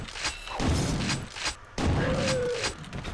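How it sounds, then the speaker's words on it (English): Enemy gunfire in Quake 2 RTX: loud blasts repeat in heavy bursts, with a faint tone sliding through them. "he's shooting me from there"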